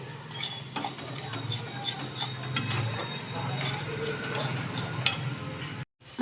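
Pea filling for kochuri is stirred and fried in a pan, with repeated metal spoon scrapes and clinks against the pan at an uneven rhythm over a soft background sizzle, close by, ending in a brief cutoff.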